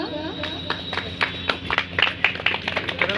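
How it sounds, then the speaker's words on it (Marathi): An audience at a baby's naming ceremony breaks into a short burst of scattered hand clapping. The claps are fairly close, irregular and uneven, with voices talking over them. "एकदा जोरदार टाळ्या होऊ द्या"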